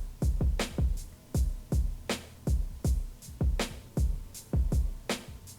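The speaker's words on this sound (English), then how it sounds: "the next part, which is just a boom bap drum break" A boom bap drum break made for a beat, with punchy reverb-soaked kicks and crisp snares repeating in a steady loop, loud and up close with no voices.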